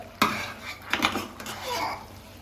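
A spoon clatters and scrapes against the metal of a pressure cooker while chicken biryani is mixed, a few sharp knocks followed by softer scraping strokes, close and without talk.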